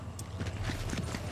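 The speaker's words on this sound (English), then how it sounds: "I heard footsteps in here." Rapid footsteps thud in a vault area of a multiplayer shooter video game, a quick rhythmic patter of steps close by, mixed with dense game noise.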